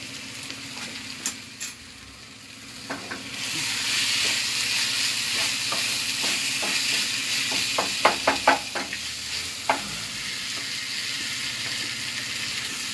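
Food fries in a pan, starting quiet and growing into a steady, hissing sizzle. Scattered clicks and scrapes of stirring break through the hiss, which stays fairly close throughout.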